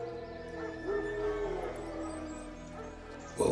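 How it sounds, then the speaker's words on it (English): Wild dogs in the video game The Witcher 3 give drawn-out howling calls, moderately distant in an outdoor wilderness scene, with a sharp louder sound cutting in at the very end. "Wild dogs. Yes. More dangerous than wolves."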